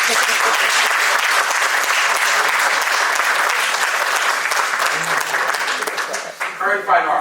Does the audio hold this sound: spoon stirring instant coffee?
no